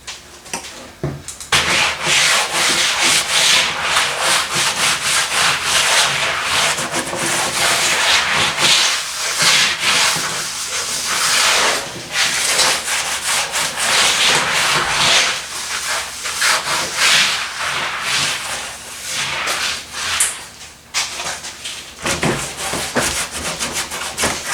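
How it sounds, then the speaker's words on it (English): A hand smears FunkOut cleaner across a surfboard, making a steady, loud, close rubbing and scrubbing swish that keeps going with brief pauses and changes in pressure. "I'm just going to smear it around. Just using my hand right now."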